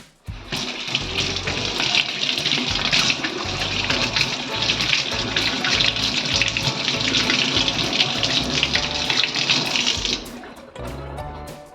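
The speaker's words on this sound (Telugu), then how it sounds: "వాటర్లో నేను క్లీన్ చేస్తాను, మీరే చూడండి" Mushrooms rinsed under running water for a biryani and curry recipe, a steady loud gush of tap water filling a sink for about ten seconds before it cuts off, with faint handling of the mushrooms underneath.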